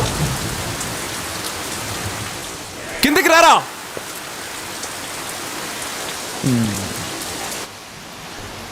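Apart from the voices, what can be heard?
rain falling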